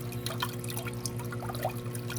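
Water pours from a simple homemade aquarium filter into the tank, a close, continuous splashing trickle with bubbly drips, over a steady low hum from the pump.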